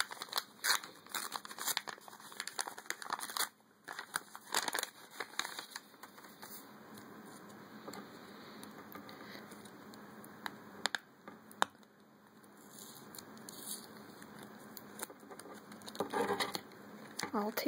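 A paper mail envelope is opened, giving close, quiet crinkling and tearing with scattered paper rustles and taps, while a person talks softly at times.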